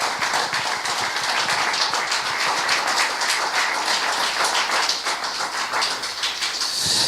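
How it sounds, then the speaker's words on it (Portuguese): Sustained applause from a church crowd, a dense steady clatter of many hands clapping at an even loudness throughout. "Você pode dar uma salva de palmas?"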